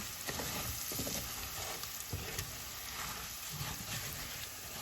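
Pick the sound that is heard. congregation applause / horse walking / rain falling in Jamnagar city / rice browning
rice browning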